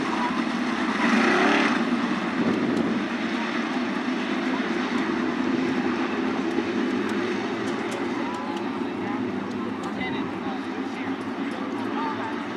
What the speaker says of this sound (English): Macedo and Andrews lead us to green flag action in the 2nd heat race